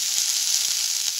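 Colored bell peppers sauté in a hot pan with a continuous bright, hissing sizzle, close and fairly loud, with a couple of soft stirring knocks.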